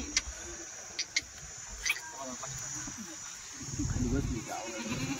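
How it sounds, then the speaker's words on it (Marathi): Three goats ride in a Jeeto goods vehicle brought from Sambhajinagar, with faint bleats and animal shuffling mixed into steady outdoor noise while people talk nearby. "मित्रांनो हे बघा जितो गाडीमध्ये 3 शेळ्या चालल्या आहे"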